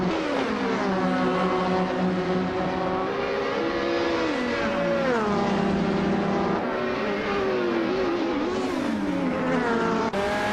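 Race cars roaring past during a race, a steady loud engine drone with shifting pitch and revving surges as cars overtake one another, continuous throughout.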